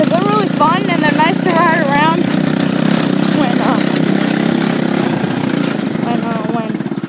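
A four-wheeler ATV engine idling nearby with a steady low putter throughout, while people talk over it.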